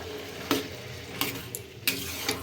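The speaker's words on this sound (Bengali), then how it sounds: "ভালো করে এবার নাড়িয়ে চাড়িয়ে নেব" Marinated meat and spice paste are stirred in a hot pan, giving a steady low sizzle broken by a few sharp spoon scrapes against the metal, with no one talking.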